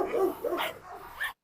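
A Belgian Malinois and a Karabash at a farmhouse give a few close, loud barks and whimpering yelps in short bursts before the sound cuts off abruptly.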